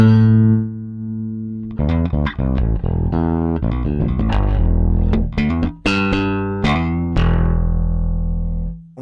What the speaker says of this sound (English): Let's say I want an overdriven, wide open SVT sound. I would dial up the gain and control the volume with my master.